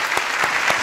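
A studio audience at a televised music show claps to welcome a singer, a brief burst of close, dense applause.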